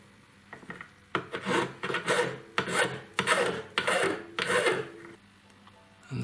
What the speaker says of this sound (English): file off the outer edge of the setting at a 45-degree angle